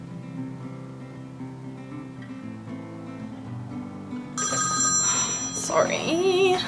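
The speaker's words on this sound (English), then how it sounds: "I just got a phone call from my boyfriend." A phone rings with an incoming call in the middle of a makeup tutorial, a moderately loud repeating ring that breaks in over soft background music, with a voice talking over it toward the end.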